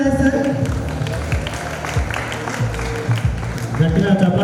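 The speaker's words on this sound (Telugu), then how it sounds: "Everyone claps." An audience at a get-together party claps continuously, a dense patter of many hands with crowd murmur and voices mixed in throughout.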